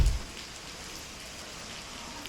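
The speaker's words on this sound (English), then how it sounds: "Crazy amount of rain." Heavy rain pours steadily outdoors at a castle courtyard in Milan, a dense continuous hiss of drops on hard surfaces, loud and even throughout with no voices.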